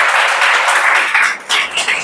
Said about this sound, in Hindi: चला वित्त आयोग के लिए ताली बजाओ जी जोरदार